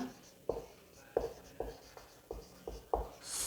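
A pen writes a definition by hand in a set theory lesson, with about six distinct scratchy strokes at an unhurried, uneven pace and no talking.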